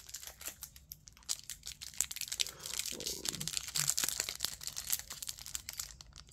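Crinkling and crunching of stiff plastic packaging around Pokemon cards being handled up close, a continuous run of crackles and rustles with a few tearing bursts, no talking.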